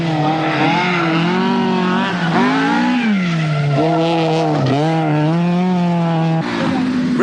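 A 1983 Lombard RAC Rally car driven flat out by Toivonen on a special stage: a loud, close engine screams and rises through repeated gear changes, with a brief drop in pitch before it climbs again.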